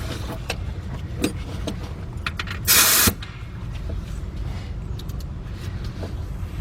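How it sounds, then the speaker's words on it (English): A pneumatic 1/2-inch drive air impact gun on long extensions removes a 13mm bolt under a 2003 Dodge Grand Caravan 3.3, one loud, short hammering burst amid quiet clinks and garage ambience. "And I got my air gun up under here"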